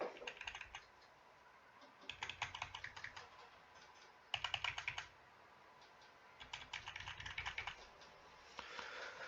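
An Aadhaar card number being typed on a computer keyboard in quick bursts of close, crisp key clicks separated by short pauses.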